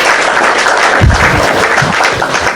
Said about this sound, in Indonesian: Tepuk tangan buat Sri Irene.